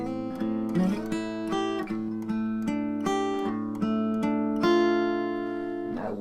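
The bridge of a song is played on a single guitar, picked chords and ringing arpeggiated notes in a steady, unhurried pattern, close and clean with no voices.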